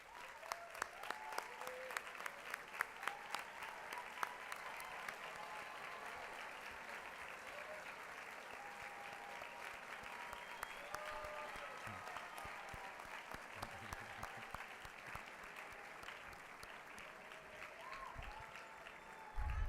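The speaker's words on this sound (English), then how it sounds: "Well-deserved applause." Sustained applause from a large commencement audience honoring the parents, guardians and grandparents of a high school graduating class, steady dense clapping with crowd murmur throughout, fairly distant and even.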